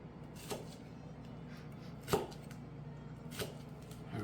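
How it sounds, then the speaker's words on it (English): A knife cuts through a roasted Italian long hot pepper on a board, making three faint, separate chopping strikes spaced over a few seconds in a quiet room. "now I'm just going to cut it down here like this"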